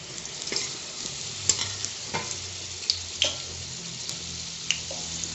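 Fish fried with garlic, ginger and onion sizzles steadily in a pan, with a spatula stirring and tapping in scattered clicks close by.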